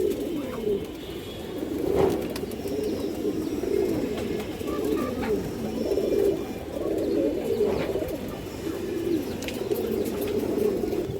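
Caged pigeons coo in steady, repeated low throaty phrases, close and moderately loud, with a faint background hum and no voices.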